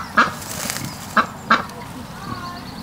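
Geese honking on a farm, three short separate calls spread over a few seconds against quiet outdoor background, with other farm animals nearby.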